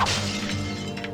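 Explosion in the Ratchet & Clank video game, a brief loud crashing burst with a shattering, breaking quality that fades over about a second, with no talk.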